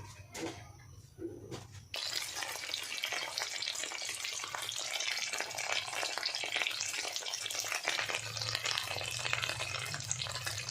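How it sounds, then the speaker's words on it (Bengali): Dried fish fries in a wok of hot oil, giving a steady, loud sizzle and crackle that starts abruptly after a brief quieter moment and continues unbroken. "এবার তেলটা গরম হলে মাছগুলো আমি ছেড়ে দেবো।"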